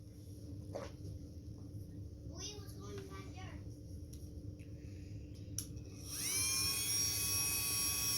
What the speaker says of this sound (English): See my nice Dremel tool. So I have a polishing head on the end.